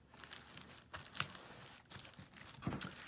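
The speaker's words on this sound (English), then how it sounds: "you can start using your decorative tape to tape the back sides right in the spaces where you taped the other side" Decorative tape pulled off its roll and pressed onto plastic bags of an activity quilt, giving close crinkling and tearing sounds in short bursts, fairly quiet, without talk.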